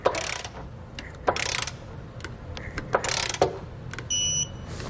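A wrench tightens and torques trailer hitch bolts on a 2015 Jeep Grand Cherokee, with bursts of ratcheting clicks in uneven spurts and a short electronic beeping tone near the end, all close by.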